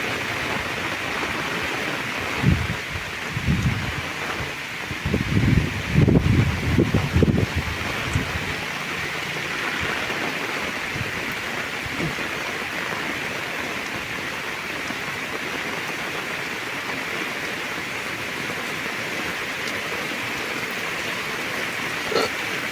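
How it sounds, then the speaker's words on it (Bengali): Heavy rain pours down in a village as a steady, dense roar that fills the whole stretch, with bursts of low wind buffeting on the microphone early on. "অনেক বৃষ্টি নামছে"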